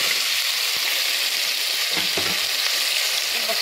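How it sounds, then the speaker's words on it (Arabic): Finely chopped onion frying in fat in a home kitchen, a steady bright sizzle with a brief stir partway through and no talking. "هبدا اشوح البصله بتاعتي اديها اللون الذهبي"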